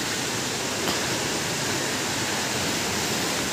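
Abungan Falls in Dingalan, Aurora roars as a steady, dense rush of falling water, close and unbroken throughout, with no voices.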